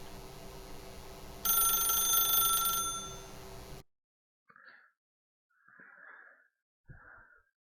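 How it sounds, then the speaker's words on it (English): A telephone rings in The Stanley Parable video game, sounding in a few separate bursts after a louder stretch of noise cuts to silence, fairly close and clear. "If you can truly place your faith in another, then pick up the phone."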